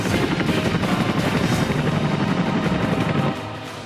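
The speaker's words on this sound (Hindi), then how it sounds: "वायुसेना के बेड़े की शान चिनूक हेलीकॉप्टर।" An Indian Air Force Chinook helicopter, its loud, dense rotor thump and turbine roar filling the air steadily before dropping off slightly near the end.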